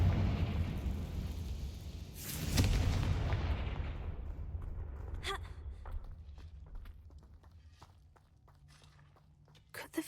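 A Confringo blasting spell in Hogwarts Legacy erupts in a loud burst of explosion noise, then fades into scattered crackles, debris and faint clicks.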